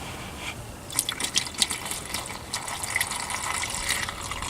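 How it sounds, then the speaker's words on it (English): Liquid trickles and splashes into the narrow inlet of a car's clogged heater core nearby, with a few drips and gurgles, steady and moderately quiet. "I'm going to pour it into the inlet side"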